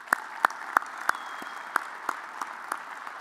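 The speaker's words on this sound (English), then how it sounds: "Another round of applause for him." A few people clapping in a slow, uneven rhythm at a university athletics award show, a handful of sharp claps spaced apart with quiet between them.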